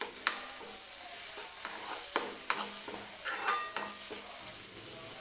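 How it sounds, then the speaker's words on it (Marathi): Masala is roasted in a pan for a dhaba-style egg curry, with a spatula scraping and stirring in irregular strokes over a soft, steady sizzle, close and moderately quiet. "व्यवस्थित मसाला भाजून घेते मी सुरुवातीला"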